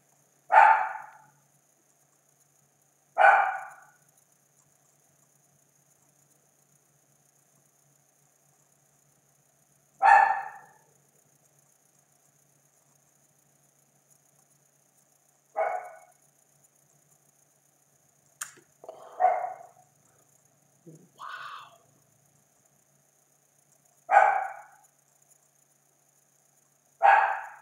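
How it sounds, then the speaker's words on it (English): A dog barks in spaced single bursts, about eight loud barks separated by quiet gaps of several seconds, close to the microphone, with a couple of softer yelps between. "I apologize for the dog barking"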